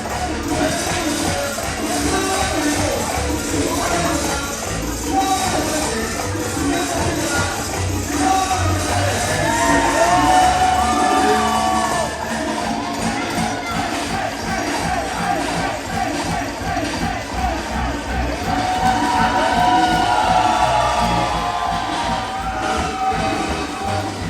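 Crowd at a CCW Conquer Kissimmee 42 pro wrestling show cheers and applauds for wrestler Cha-Cha, a steady loud roar of voices and clapping lasting throughout with music or commentary mixed underneath.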